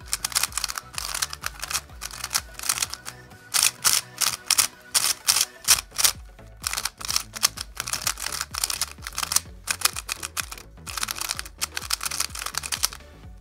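A Yuxin Little Magic speed cube is turned rapidly and continuously, producing dense, crisp plastic clicking and clacking with brief pauses, close to the microphone and without any speech.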